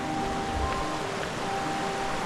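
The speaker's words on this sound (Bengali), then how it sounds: "পানির আওয়াজ শুনতেছেন?" Steady rushing water flows continuously nearby on a hill road near Tindu, Bandarban, a broad even wash of sound with no voices.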